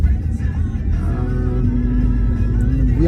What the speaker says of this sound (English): We are now driving